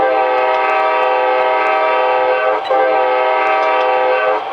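An HO scale Amtrak P40/P42 Genesis model locomotive horn from a sound decoder sounds one long, steady multi-tone blast, loud and close, briefly dipping midway before continuing to the end.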